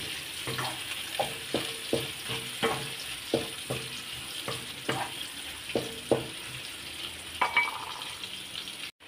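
Steady sizzling of cherry tomatoes and bottle gourd frying in a pan with sardines, with a regular series of sharp spatula scrapes and taps over the constant hiss and no talking.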